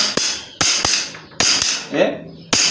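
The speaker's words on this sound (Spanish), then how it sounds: "Con un martillo o con un mango grande hacer mucha fuerza." A hammer tightens a bicycle pedal onto its crank with about six sharp, loud metallic strikes, some in quick pairs, separated by short pauses.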